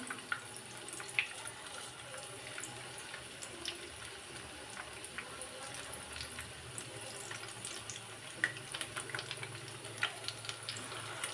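Pakora batter made with kolmi greens fries in hot oil with a steady, soft sizzle dotted by faint crackles and pops, a quiet, continuous bubbling with no talking.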